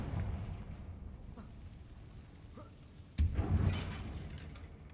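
In Hogwarts Legacy, a Confringo blasting spell ends in a sudden, loud explosive burst. A low rumbling game soundscape plays before the blast, and the echo fades slowly after it.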